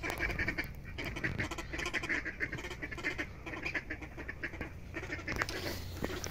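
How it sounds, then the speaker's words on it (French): A group of ornamental ducks quacks busily and continuously at moderate distance, overlapping calls forming a steady chatter with no voices. "on va avoir une petite vue des canards d'ornement"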